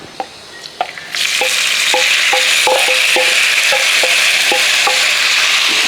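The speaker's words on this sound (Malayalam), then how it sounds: "തക്കാളി ഇട്ട ശേഷം നമുക്കൊന്ന് ഇളക്കി കൊടുക്കാം" Tomatoes with crushed garlic hit a hot pan and start a steady, loud sizzle, while a spoon knocks and scrapes against the pan in a regular stirring rhythm.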